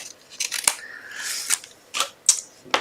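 Scissors snip through paper card stock in a handful of crisp, close cuts, irregularly spaced with short pauses and small rustles between them.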